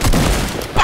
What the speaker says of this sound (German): Mit einem Schuss! Mit der Pumpgun!